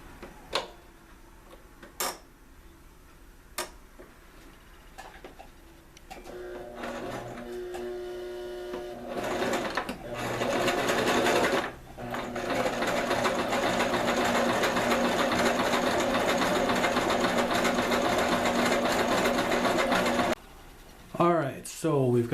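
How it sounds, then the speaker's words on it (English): A serger finishes the fabric ends of a foraging bag: a few sharp clicks at first, then a loud, steady, fast whirring run lasting several seconds, a brief pause, and another run at the end. "we're going to serge the ends of these so they don't fray too much"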